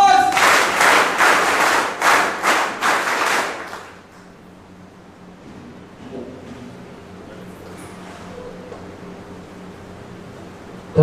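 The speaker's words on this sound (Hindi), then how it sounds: "जोरदार तालियों के साथ स्वागत करिए संदीप गुप्ता जी का" An audience claps to welcome Sandeep Gupta at a campus welcome ceremony, loud rhythmic applause for about four seconds that then stops, leaving a quiet room with faint background noise.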